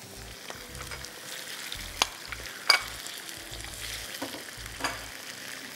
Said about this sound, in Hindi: अब हमारी चिकन फ्राई हो रही है